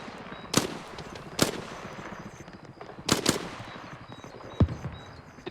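Gunfire in a military simulation game: several sharp, loud shots ring out at uneven intervals, including a quick double burst, over a low background hum with no talking.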